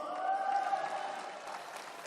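Applause from a crowd at a Democratic Party leadership candidates' joint rally in Incheon. It comes as a steady, moderately loud wash of clapping with a faint tonal hum underneath.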